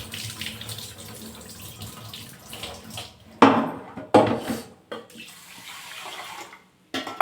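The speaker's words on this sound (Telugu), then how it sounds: "ఫ్రూట్స్ వెజిటేబుల్స్ నార్మల్ వాటర్తో కడిగి మళ్ళీ మంచి తాగే వాటర్తో కూడా వాష్ చేస్తాం" Tap water runs over fruits and vegetables being washed, a low continuous stream broken by several loud, sharp splashing bursts and brief pauses, close by with no talk.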